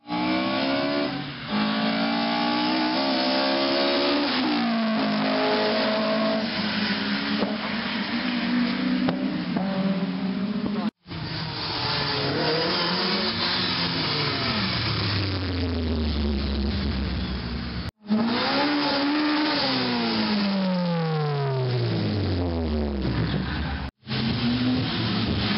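A rally car launches off the start line at the Brean Stages in January 2014, its engine revving hard and rising through several gear changes with brief cuts between shifts, loud and continuous throughout.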